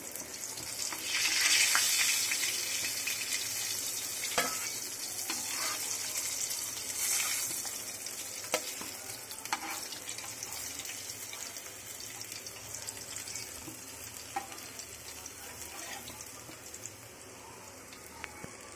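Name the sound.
hilsa fish frying in oil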